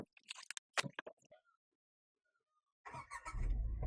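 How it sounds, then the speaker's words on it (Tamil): A 2026 Tata Tiago CNG hatchback starts directly in CNG mode: a few sharp clicks and chimes, a silent pause, then the engine catches and settles into a close, low idle rumble. "சிஎன்ஜி மோட்லயே இது வந்து இப்போ வந்து ஸ்டார்ட் ஆயிருக்கு."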